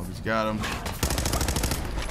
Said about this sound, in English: they're taking a lot of automatic gunfire to the face